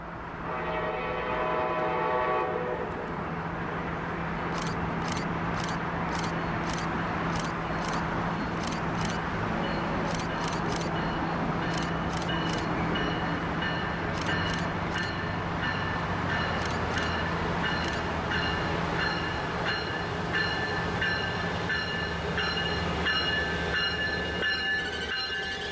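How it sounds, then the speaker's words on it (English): Amtrak train 1563 rolling into Old Town Station near San Diego, with a steady rumble of wheels and cars, rhythmic clacking over rail joints mid-pass, and a lingering tonal squeal, loud and close for the whole stretch. "Amtrak 1563 arrives at the Old Town Station"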